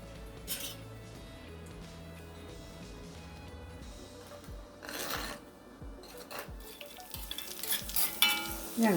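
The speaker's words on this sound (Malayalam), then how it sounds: "അപ്പോൾ വെളിച്ചെണ്ണ വെച്ച് കടുകിട്ടു, ചുവന്നുള്ളി ഇട്ടു, 2 ഉണക്കമുളക് കേട്ടോ." Mustard seeds, shallots and dried chillies sizzle in hot coconut oil for an aila curry tempering, a steady close frying hiss broken by a spoon scraping and clinking against the pan.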